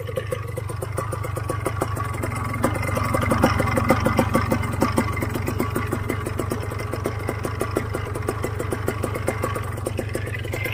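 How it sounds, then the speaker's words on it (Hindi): A new Vittorazi Cosmos 300 paramotor engine running at close range, a loud, steady two-stroke drone with rapid regular pulses that swells slightly midway before settling back to an even idle. "Cosmos 300 engine."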